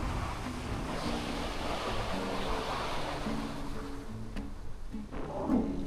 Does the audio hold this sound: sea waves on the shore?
yes